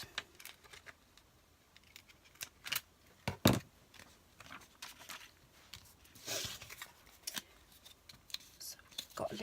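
Scissors cutting and trimming card for a small craft card, quiet close snips and paper crinkles scattered irregularly, with soft handling noises between cuts.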